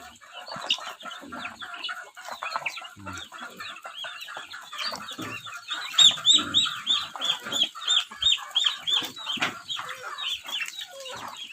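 Chickens cluck and chatter steadily at a moderate distance, with a busier stretch of overlapping clucks in the second half over faint background noise.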